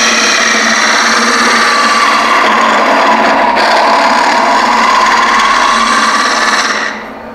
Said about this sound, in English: I'm going to pick the cut up, and as you can see, the shavings are coming mostly back out of the vessel